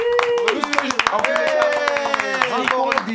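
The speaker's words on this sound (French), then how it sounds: "je vous applaudis encore une fois pour vous donner de la force" Audience applause and scattered clapping in a French televised mock-courtroom show, steady throughout and partly under a man's speech.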